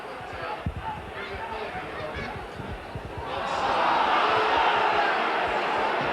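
A rugby league crowd at Hull FC versus Leeds in 1992 erupts in angry roaring and jeering at a penalty, swelling louder midway through, with a commentator talking over the noise.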